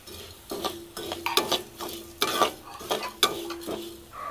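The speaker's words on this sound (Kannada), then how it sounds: "ಕೊತ್ತಂಬರಿ ಸ್ವಲ್ಪ ಫ್ರೈ ಆದ ನಂತರ ಜೀರಿಗೆಯನ್ನು ಕೂಡ ಹಾಕೊಳ್ಳುವ" Coriander and cumin seeds dry-roasting in a pan for Udupi-style sambar powder, with repeated scraping and stirring strokes against the metal and faint crackling, close and moderately loud with no talk.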